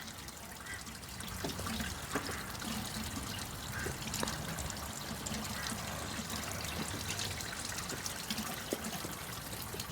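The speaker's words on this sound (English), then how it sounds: "connect up the fresh water and fill the tank" Water runs steadily into a motorhome's fresh water tank at a service point, a continuous close rushing trickle that holds level throughout.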